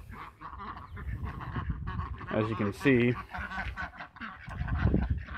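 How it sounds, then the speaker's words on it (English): Runner ducks quack and honk in a short, loud burst from close by, waiting to be fed in the morning, while someone talks over them. "So the ducks are waiting for me to feed them this morning."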